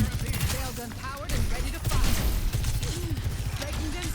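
Rapid SMG fire from Sojourn in Overwatch, bursts of close gunshots running steadily beneath two people talking over the game.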